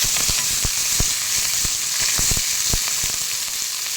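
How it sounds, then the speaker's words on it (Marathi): Coriander leaves sautéing in a pan for chilli thecha, a dense, steady close sizzle with scattered sharp taps and scrapes of stirring against the pan. "तर यात आपण आता कोथिंबीर घालू मस्त भरपूर अशी कोथिंबीर थोडंसं परतायचं"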